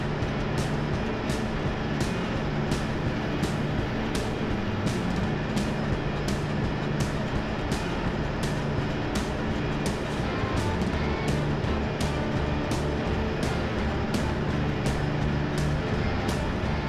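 A motor grader on prototype tires drives along a road at higher speed, giving a loud, steady engine and rolling drone with regular periodic knocks or thumps throughout, no talking.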